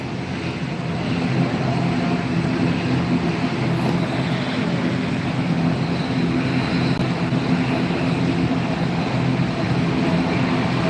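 An ATR turboprop airplane engine at Gran Canaria Airport drones loudly and steadily nearby, a constant roar with a tonal whine running through it.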